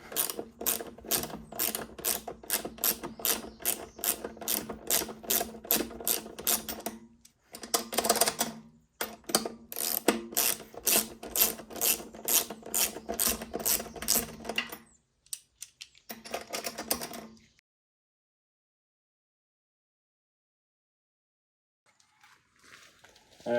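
A ratchet wrench backs out the gas tank bolts on a 2007 Kawasaki Ninja 650R with rapid, loud, close clicking runs. Short pauses separate the runs, and the clicking ends in silence.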